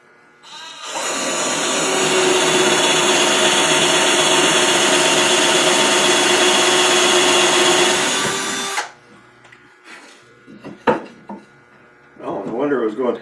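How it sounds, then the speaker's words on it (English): Cordless drill with a 1/2 inch spade bit boring into wood that has a knot: a loud, steady whir and grind held for about eight seconds close by, then it stops, leaving scattered faint clatter. "I told you I was going to try one of these spade drills and see how they work."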